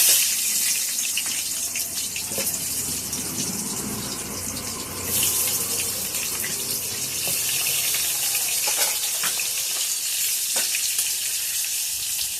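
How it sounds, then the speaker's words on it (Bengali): Potatoes cut into long strips fry in oil with a loud, steady hiss and crackle that jumps in intensity partway through, then continues with occasional pops and clinks; no speech. "আলুগুলো ভেজে নেই।"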